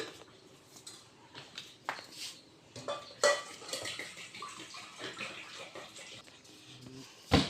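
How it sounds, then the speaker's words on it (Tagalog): Water splashes and trickles into a cooking pot while making spaghetti, with clanks of the pot and utensils, a few sharp knocks and short bursts of pouring, and a voice briefly in the background. "So put water."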